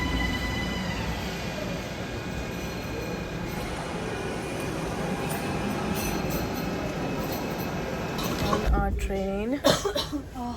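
Steady rumble inside a moving train in Austria, with rail noise throughout and squealing wheels near the end; voices are heard talking.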